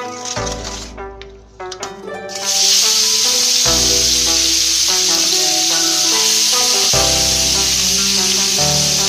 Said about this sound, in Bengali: চিংড়ি মাছগুলো অল্প ভেজে নেব।